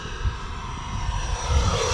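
An E-flite F-16 Falcon 80mm EDF RC jet throttling up in flight, its ducted-fan whine and roar rising steadily and filling the short stretch, with faint low rumbles underneath.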